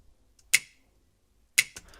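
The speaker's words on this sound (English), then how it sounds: "And then at the second part we also add like the super simple snap." A short, dry finger-snap sample with no reverb or delay, used in a breakbeat track, cracks twice about a second apart, crisp and close, with a faint extra tick after the second.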